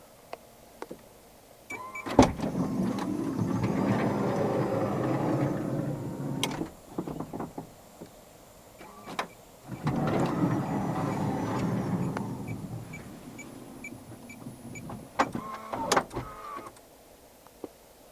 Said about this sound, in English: the seventh way to operate the left-powered sliding rear door is via this button right here